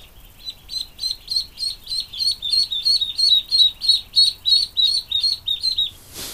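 Muscovy ducklings chirp in a hatching pen, a rapid run of about twenty evenly spaced high peeps, loud and close, ending with a brief burst of rustling noise.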